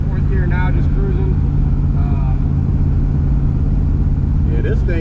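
A car with a 4L80 transmission cruises on the highway in fourth gear, giving a loud, steady low engine drone and road rumble from inside the cabin, with voices talking over it.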